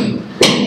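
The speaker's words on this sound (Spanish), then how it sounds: "pero oiga los martillazos" A single sharp hammer blow lands partway through, from renovation work on the adjoining house, heard at a distance over steady background noise with no talk.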